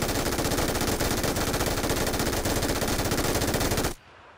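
Sustained MG3 machine gun burst firing tracer rounds in PUBG, a loud continuous rapid rattle of shots that stops abruptly near the end, leaving only a faint tail.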